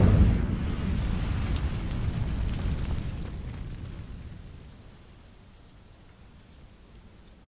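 Incendio fire spell bursting into flame over dry vines in Hogwarts Legacy, a loud roaring whoosh with crackling that swells at first, then fades to a low smoldering rumble.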